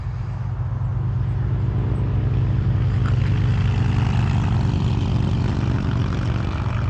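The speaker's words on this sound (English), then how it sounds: "Those were loud motorcycles." Loud engines roar steadily for several seconds with a heavy low rumble, like powerful motorcycles passing close by.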